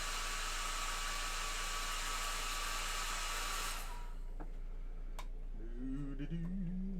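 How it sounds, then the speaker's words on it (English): A hair dryer blows a loud, steady hiss for about four seconds, then cuts off, leaving a quieter room with a few clicks and a voice starting to speak. "Sorry, I got a dryer going, or my hair dryer,"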